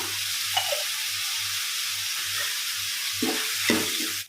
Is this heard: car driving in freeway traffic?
no